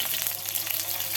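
Mustard seeds fry in hot cooking oil, making a steady, dense sizzle with fine crackles and pops. The sound is close and continuous, and no one speaks.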